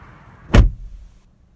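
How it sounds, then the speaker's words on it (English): A 2019 Kia Sorento's car door swings shut with a single solid, close thud that fades quickly into quiet. "All right, so shutting the door on the Kia Sorento."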